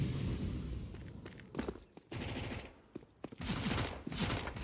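Rapid gunfire bursts from Counter-Strike on the Inferno map, a Mac-10 submachine-gun push in a competitive match, crackling in repeated clusters with brief footstep-like gaps between them.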